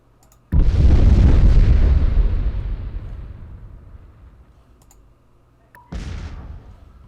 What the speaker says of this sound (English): Hopefully those explosions aren't too loud again.